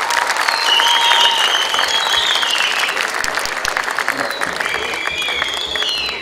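Festival audience at a local religious-song concert in Guelma applauds steadily and loudly for the whole stretch, a dense sustained clatter of clapping with a few shouts mixed in.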